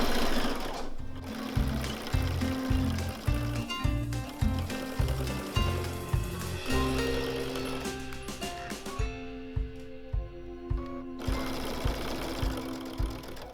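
A sewing machine stitches the border seam of a quilt with a quarter-inch seam allowance, chattering in rapid rhythmic runs that stop briefly and start again, close and steady.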